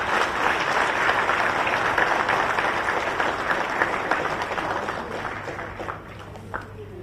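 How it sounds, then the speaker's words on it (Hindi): A crowd gives loud, sustained applause for appointment letter recipients at a Jharkhand ceremony, steady clapping throughout that thins slightly near the end. "तो एक बार आप सबके लिए हो जाए जोरदार तालियां।"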